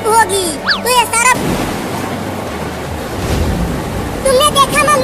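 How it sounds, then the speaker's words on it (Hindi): Heavy rain pours down with a dense, loud hiss, and people talk over it at the start and again at the end. "देखो कितनी तेज बारिश हो रही है।"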